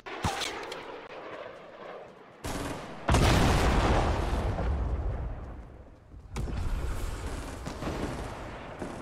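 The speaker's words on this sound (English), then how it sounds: "Guided missile coming our way." A guided missile blasts in Fortnite amid heavy game combat, with dense broadband roars and bursts of gunfire-like crackle, a loud sustained impact surging in the middle, then renewed rumbling barrage.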